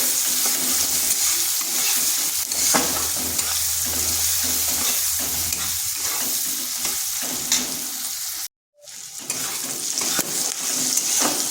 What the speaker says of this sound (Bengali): এরপর দিয়ে দিচ্ছি দুটো মিডিয়াম সাইজের পেঁয়াজ পেঁয়াজটাকে একটু ভেজে নেব